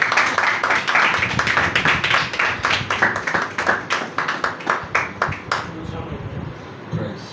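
Church congregation at a Sunday service claps in a strong, steady rhythmic beat to welcome the pastor, loud and near, the regular claps continuing for about six seconds before thinning out, with voices underneath.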